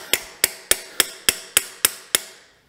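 A freeze plug is hammered into the casting of a Kubota D722 diesel engine block: eight sharp metallic strikes in a steady rhythm, close and loud, with no talking.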